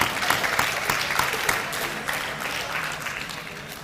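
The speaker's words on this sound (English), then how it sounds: "Give yourself a round of applause" Graduating class of 2021 applauds at a high school awards ceremony, a busy wash of many hands clapping with distinct claps popping through, fairly loud and gradually easing.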